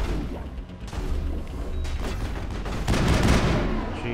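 Mass Effect 1 combat gunfire: a dense, continuous stretch of shots and crashing impacts, loud and close, swelling into a heavier burst near the end, with no talking.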